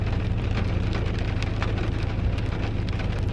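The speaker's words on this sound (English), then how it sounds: "I am so sorry if that rain is really loud." Heavy rain patters loudly and continuously on a surface close by, a dense steady hiss with scattered sharper drops and no voices.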